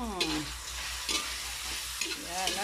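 Dilis anchovies and tomato frying and being stirred in a pan, a steady close sizzle with periodic scraping stir strokes throughout.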